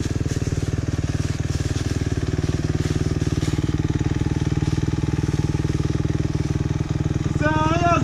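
Hard enduro motorcycle engine held at high, strained revs with too much throttle, a loud continuous roar with rapid firing pulses, rising slightly near the end as a second engine note climbs in.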